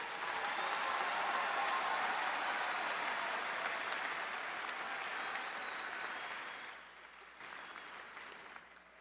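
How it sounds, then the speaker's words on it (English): Dense, sustained applause from a large commencement audience honoring new LSU graduates at the 2016 summer ceremony, steady and loud before thinning and tapering off near the end. "Would you all please join me in a round of applause for these new LSU graduates?"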